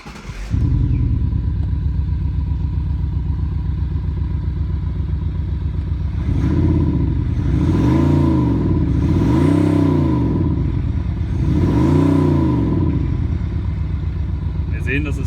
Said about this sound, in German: nun starten wir das Fahrzeug, um zu schauen, ob das System korrekt arbeitet